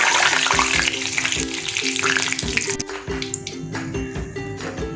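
Sesame-coated anarsa fry in hot oil, a loud, steady, dense sizzle and bubbling close by that continues throughout with slight shifts in intensity.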